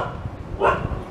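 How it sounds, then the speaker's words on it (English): A single short, sharp dog bark rises out of low background rumble, close and moderately loud. "Who are you barking at now?"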